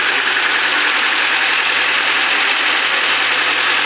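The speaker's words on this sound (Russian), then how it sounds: "Мотор сперва первые секунды без давления шумно работал." A 1.9-litre, 120-horsepower car engine runs loud and steady just after starting, a dense continuous mechanical roar with no pauses and no voices.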